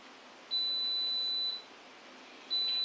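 An electric egg cooker signals it is done with two long, steady, high-pitched electronic beeps about two seconds apart, close and clear over a quiet room.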